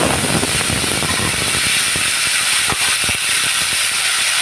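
Raw banana hits hot oil tempered with black cumin seeds, giving a loud, steady hiss and sizzle that runs the whole time with scattered crackles and pops, no voices over it.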